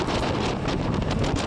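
Gusty wind from a thunderstorm gust front buffets the microphone in a steady, loud roar with rushing surges, outdoors in Atlanta with Saharan dust in the air.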